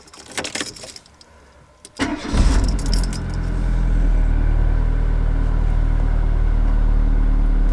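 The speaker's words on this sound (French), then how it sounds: "Ok, là, on démarre le véhicule." A car engine is started during a test with a Topdon BT Mobile Pro S battery tester: a few clicks and jangles, then a cranking burst that catches and settles into a steady, loud idle.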